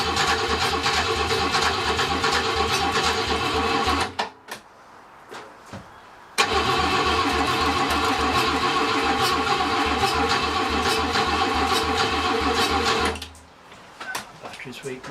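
An old BMW barn-find engine with a weak battery cranks in two long, rhythmic bursts that don't catch, each churning for several seconds before stopping, with short pauses and brief talk in between.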